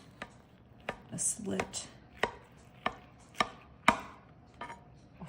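A knife chops through a cooked pork loin on a cutting board, about ten crisp separate cuts in an uneven rhythm, close and fairly quiet, with a few brief words spoken.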